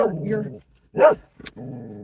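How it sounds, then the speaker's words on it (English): A dog growls and gives a single short bark indoors, heard briefly between bursts of a person talking. "She's growling."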